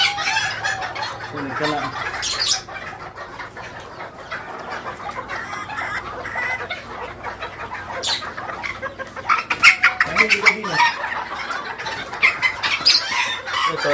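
Chickens cluck on a Filipino breeding farm where a brooding hen is setting on eggs, the calls intermittent and fairly close, with a rooster crowing and someone talking over much of it.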